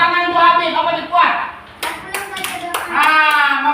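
In a classroom, a few sharp hand claps sound for a teacher amid children's and an adult's voices, the claps coming in a short uneven cluster.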